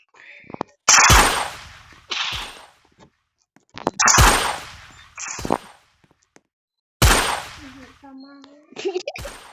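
Gunfire from a mobile video game played on a phone, with loud bursts of shots in several clusters separated by short pauses, while children talk and shout nearby.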